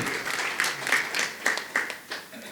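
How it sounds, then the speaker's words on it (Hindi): Scattered clapping from a devotional audience at an ISKCON Rohtak talk, several uneven bursts of claps at moderate distance with a faint background hum and no clear speech. "हाँ, ताली बजाओ, माताओं ने बोला।"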